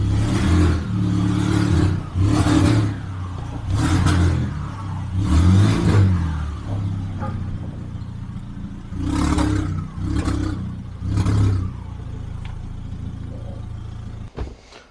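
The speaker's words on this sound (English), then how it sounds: "The Golf is actually driving under its own power at long last." An all-wheel-drive converted VW Golf GTI moves under its own power, its engine rising and falling in repeated revving bursts, loud and close, with a sharp clunk near the end.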